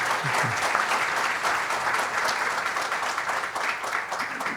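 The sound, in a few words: audience applause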